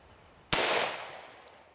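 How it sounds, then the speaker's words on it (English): A single sharp .44 Magnum handgun shot strikes a titanium plate, a loud sudden crack with a bright metallic ring that decays over about a second, heard alone. ".44 Magnum, one of the biggest handgun cartridges."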